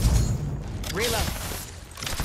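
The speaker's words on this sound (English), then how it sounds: "Shots fired and they're hitting me" Gunfire in Apex Legends, a few scattered shots and thuds among dense game noise, with a voice speaking over the middle.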